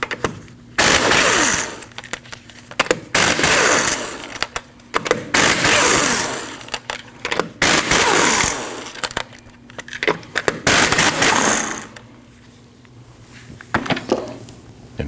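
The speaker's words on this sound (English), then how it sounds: "After you've raised and supported the vehicle safely, you need to remove your 5 lug nuts." Power tool rattling off 19mm lug nuts from the front wheel of a raised 2003-2008 Subaru Forester: loud, close bursts of buzzing clatter separated by short pauses, with no talking.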